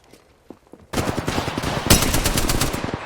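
Weapon fire in the video game Apex Legends breaks out as a loud, rapid burst of automatic shots after a few quieter taps, sustaining fast rhythmic gunfire to the end.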